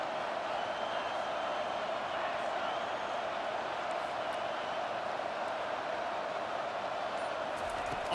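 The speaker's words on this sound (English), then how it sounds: "Decibels rising as the crowd gets behind this defense on third down." A stadium crowd in the College Football 25 video game roars in a steady, dense wash of noise on third down, continuous and moderately distant throughout.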